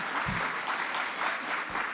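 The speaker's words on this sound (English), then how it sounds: "All the applause over there" A large audience applauding steadily, a dense, continuous wash of many hands clapping with a couple of low thumps underneath, holding at an even level throughout.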